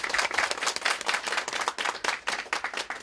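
A church audience claps for a staff member being introduced at a community event, a steady patter of many hands with distinct individual claps standing out, fairly close and unaccompanied by talk.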